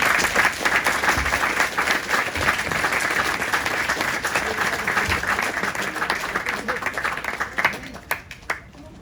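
Audience applause at a fire brigade road traffic collision rescue demonstration, steady dense clapping from a crowd sustained for about nine seconds before thinning into a few scattered claps at the end.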